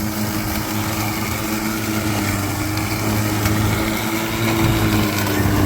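Ego 49cm electric lawn mower cutting long grass and throwing it out a side chute, a steady close whirring motor drone with a faint rustle and no speech.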